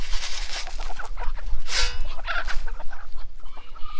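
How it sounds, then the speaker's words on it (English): Several hens clucking and squawking close by, with one sharp burst partway through over a busy farmyard background. "Probably the two sweetest chickens here"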